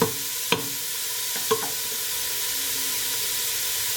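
Onions and celery sauté in a pan over low heat for a vegan dish, giving a soft, steady sizzling hiss. A couple of light utensil taps sound near the start.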